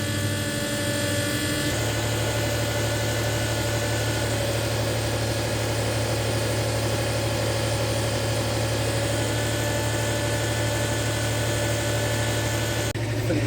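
A pump pushing 32 litres per minute into large tanks under a shed runs continuously, a steady mechanical hum and droning whine at constant loudness throughout, with no voices.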